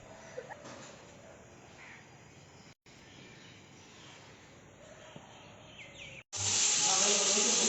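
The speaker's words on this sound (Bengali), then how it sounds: "পমফ্রেট মাছ ভাজা হচ্ছে" Pomfret fish frying in a home kitchen pan, a steady close sizzling hiss that runs on, breaks off twice, then returns much louder and brighter near the end.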